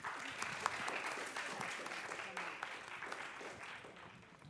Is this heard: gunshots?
no